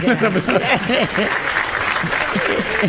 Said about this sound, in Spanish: Tenemos a los aplaudidores.